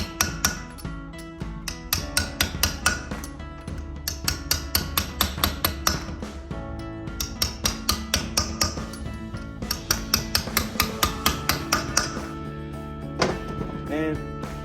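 A 3/4 socket tapped down to seat it on an engine during assembly, giving a long run of quick, rhythmic metallic taps, close and fairly loud, with brief pauses between bursts.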